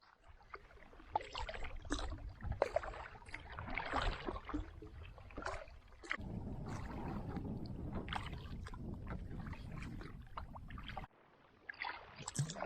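Paddles dip and pull through the water of an Adirondack lake and river route, canoeing upstream into a headwind against the current; quiet, irregular splashes and gurgles sound close by over soft wind noise.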